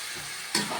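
Chicken being stirred in a pan on a gas stove: a soft sizzle, then one quick, close scrape of the spatula partway through the short moment.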